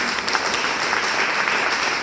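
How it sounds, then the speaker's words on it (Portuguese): Church congregation claps together in steady, full applause, a continuous wash of hands at close range with no voices over it. "As palmas do Senhor Jesus."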